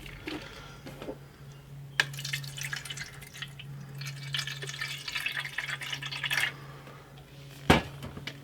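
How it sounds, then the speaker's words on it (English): Twelve ounces of water are poured into a cooking pot for a test boil on a homemade alcohol burner, giving soft, close splashing and dripping sounds with a faint steady hum underneath. "I'm going to go ahead and put 12 ounces of water in this."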